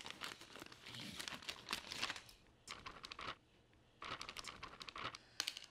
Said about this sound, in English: To the bowl, let's add our 16-ounce bag of thawed hash browns.